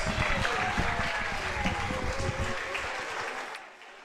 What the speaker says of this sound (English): Let's give our former queens a big round of applause.